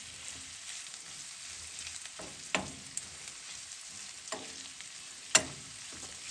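Chipotle lime shrimp and pork cooking in a pan at an off-grid camp, a steady low sizzle with a few sharp pops and spatters breaking through, close and alone.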